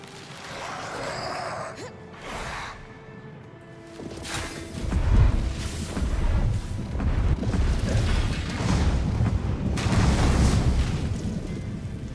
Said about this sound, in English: What a chain explosion, dude.